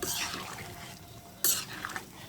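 Hilsa fish curry being stirred in a pot after ground pumpkin seed paste is added, a soft scraping and sloshing stir with a brief louder clink near the end, close and quiet.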